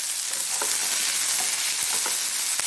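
Onions and ginger sizzling and frying steadily in a hot pan for channa masala, a dense continuous crackle with occasional stirring clicks, close and fairly loud, no voices.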